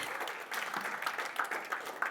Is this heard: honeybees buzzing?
no